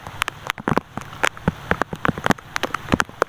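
Heavy rain pelts down near a fishing spot, with loud irregular splats and drops striking close surfaces over a steady hiss, and no talking.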